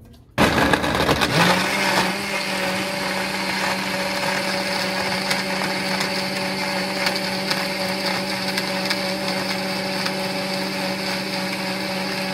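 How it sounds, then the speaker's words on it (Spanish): A blender starts abruptly and runs at a steady high whir, mixing fruit juice with ice cubes, ice chunks rattling and crushing at first before the motor settles into a smooth drone. "añadimos unos cubos de hielo y a mezclar"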